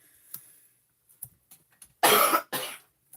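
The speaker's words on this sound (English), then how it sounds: "hope that that's done with the coughing for now" A crafter working at a desk with card-making adhesive coughs hard twice in a row, loud and close, after a few faint small sounds in an otherwise quiet room.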